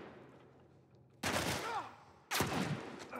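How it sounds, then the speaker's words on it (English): Enemy gunfire aimed at the player in The Last of Us Part I video game: two loud, sudden bursts of shots about a second apart, each with a ringing tail, over a quiet background. "Who the hell is shooting me?"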